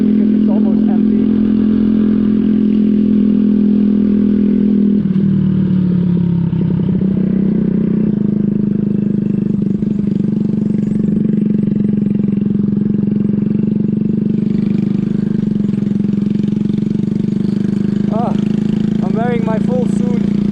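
A Skyteam PBR motorcycle engine runs loud and close with a steady throbbing idle and some clattering, and a rider talks over it.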